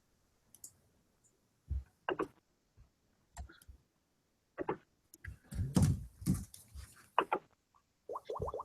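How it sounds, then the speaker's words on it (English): Keyboard typing coming through online voice chat during a tabletop role-playing game session: irregular bursts of thin clicks and taps separated by short silences, faint and slightly distant. "I can hear him typing."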